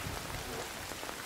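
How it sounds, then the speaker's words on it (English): Steady rain falls in the video game Death Stranding, a dense even hiss of droplets with no voices over it. "I guess I'm melting in the rain now"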